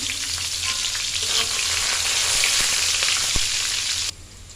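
Onion frying in very hot oil for a spicy meat curry, a loud continuous sizzle with occasional stirring scrapes and a sharp utensil knock near the end before the sizzle drops away.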